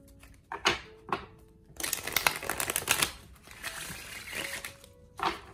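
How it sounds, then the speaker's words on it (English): A Game of Thrones tarot deck is shuffled close up in a quiet room, with short riffling bursts at first and then a longer run of crisp flicking cards. "I love shuffling this deck."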